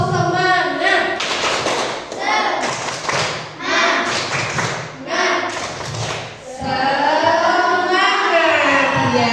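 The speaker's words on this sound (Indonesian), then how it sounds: "yuk kita tepuk semangat dulu" Schoolchildren in a classroom perform a rhythmic spirit clap, with bursts of clapping and thumping in a patterned beat mixed with loud chanting voices, ending in sustained group shouting.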